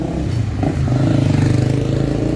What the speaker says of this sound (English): A lot of people going through here on the motorcycle